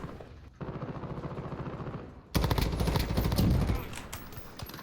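Rapid bursts of video game gunfire while sniping with a Corsair M65 RGB Elite mouse: a quieter volley of repeated shots, then a louder, denser barrage that rattles and fades, with a voice faintly underneath.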